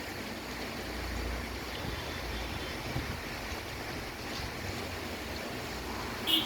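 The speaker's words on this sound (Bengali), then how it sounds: "প্রচণ্ড প্রচণ্ড বাতাস, ঝড় বৃষ্টি" A strong pre-monsoon wind and rain storm in Jakiganj, Sylhet, making a continuous broadband roar of gusting wind and rain with microphone buffeting, steady in level throughout.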